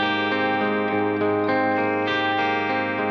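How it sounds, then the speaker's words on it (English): A Telecaster electric guitar through a Marshall Silver Jubilee amp plays a clean picking pattern, steady sustained notes ringing continuously and close, with no voices. "So let's say we want to play a clean picking pattern with the Tele and the Marshall Silver Jubilee"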